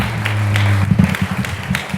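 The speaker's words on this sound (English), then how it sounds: "the crowd cheered with excitement for the main event" A crowd claps and cheers loudly as a folk-blues musician takes the stage, a held tone giving way to a dense burst of applause.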